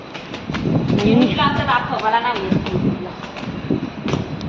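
A train rumbles and clatters past at a station, with people talking nearby and wind buffeting the microphone.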